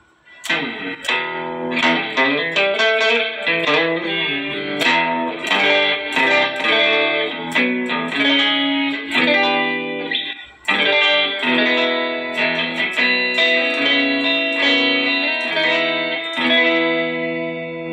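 Green Thomson electric guitar played through a distorted effects preset, with dense, loud strummed chords and picked notes running continuously with a brief break midway and no talk.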